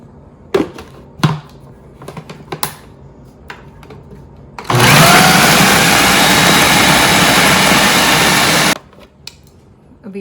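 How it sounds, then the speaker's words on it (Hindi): An electric kitchen grinder whirs loudly for about four seconds, grinding broken pieces of flatbread for malida, framed by softer clicks and handling knocks before and after. "मैं इसे ग्राइंडर में ही ग्राइंड करूँगी"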